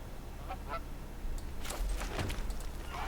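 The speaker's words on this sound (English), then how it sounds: "Goose." A goose honks several times over a continuous rumbling background, the honks moderately loud and clustered near the middle, with no voices.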